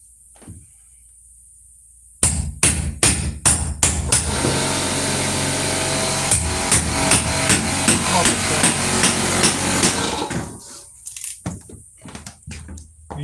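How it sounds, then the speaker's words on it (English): Repeated sharp hammer blows ring out close by in an irregular, fairly rapid series, pausing briefly and then resuming with a few scattered strikes, as nails are driven and old nails worked out of wood. "Use the hammer to finish it off."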